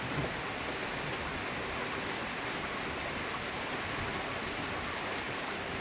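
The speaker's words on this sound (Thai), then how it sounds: "ฝนก็ตกมากแต่บ่ายแล้วครับ" Heavy afternoon rain falls in a rural Thai setting, a dense, steady hiss of drops that stays even from start to finish with no voices.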